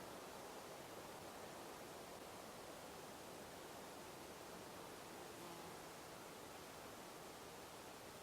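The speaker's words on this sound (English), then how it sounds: "Just the wind in the trees." Wind moving through trees at a backcountry camp on the Lusk trail, a steady broad hiss that holds evenly for the whole stretch, moderately loud with no voices over it.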